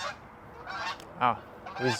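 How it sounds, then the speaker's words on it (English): Several geese honk, a few separate nasal calls at a moderate distance over quiet background, the later honks louder and closer together. "these geese are"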